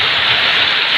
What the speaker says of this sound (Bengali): প্রচুর বৃষ্টি হচ্ছে দর্শক